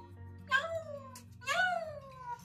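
A voice imitates a cat's meow for a four-month-old baby, giving two drawn-out, rising-and-falling meows about a second apart, close and clear over a soft background hum.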